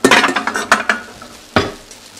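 A spoon scrapes and stirs stuck, burnt grains in a cooking pot, giving a run of quick close scraping strokes and then one sharper scrape after a pause, with no talking.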